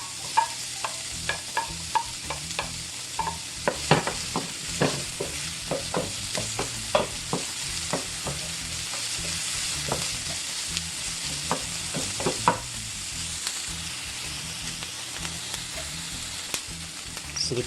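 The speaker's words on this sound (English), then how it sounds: "Once the garlic is brown, we're gonna add the onion." Garlic and onion frying in a pan, with a steady close sizzle broken by frequent scraping clicks from stirring, all without speech.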